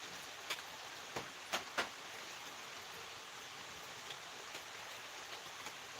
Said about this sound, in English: Can you hear the creek we're sitting beside?